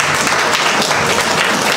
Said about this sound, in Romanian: Să-i încurajăm cu aplauze!